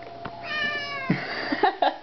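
A cat meows repeatedly while stuck in a paper grocery bag wrapped around its belly, several close, clear mewing calls with soft rustling between them.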